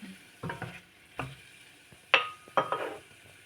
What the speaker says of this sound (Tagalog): Nagisa ko na itong bawang, sibuyas, tsaka nilagyan ko ng isang pirasong kamatis guys